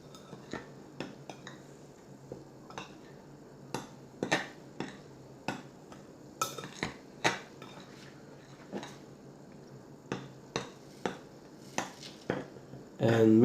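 Flour, salt and sugar stirred together in a bowl, with a steady run of light clinks and scrapes from utensil against bowl, close up and without talk, ending in a louder bump.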